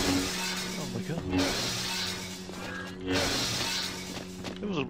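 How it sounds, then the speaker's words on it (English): Glass shatters repeatedly in the Star Wars Jedi Knight: Dark Forces II video game, with crashing breaks rising in a couple of bursts over a steady game hum while players talk throughout. "It was a breaking glass"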